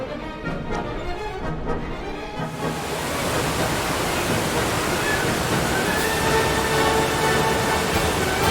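Steady broadband rush of falling water, loud and continuous, filling the whole clip with a dense roar and no voices.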